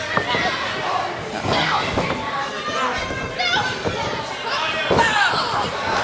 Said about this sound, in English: Stomp to the midsection.